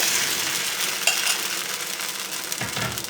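Appam batter spooned onto a hot pan greased with coconut oil, giving a steady close sizzle with a brief clink of utensil partway through.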